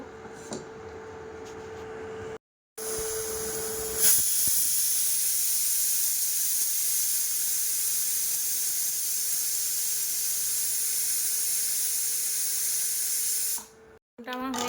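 A pressure cooker on the stove with potatoes inside lets out a long, steady steam hiss with a faint whistling tone, running unbroken for about ten seconds after a brief gap and ending abruptly.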